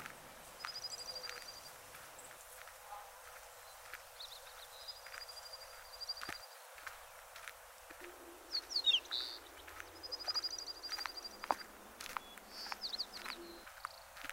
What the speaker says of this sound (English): Listen to the joyful birds chirping.